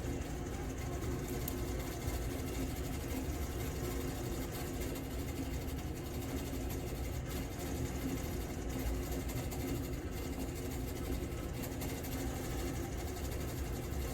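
A sewing machine runs steadily through quilt fabric for a New York Beauty block, with an even, continuous motor hum and needle patter throughout, fairly quiet and unbroken by talk.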